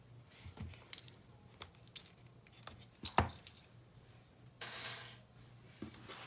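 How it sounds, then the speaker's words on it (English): Plastic Wonder Clips are pulled off fabric and set down one by one, producing a series of light clicks and taps with soft rustling between them, close up with no talking. "I'm going to take my Wonder Clips off."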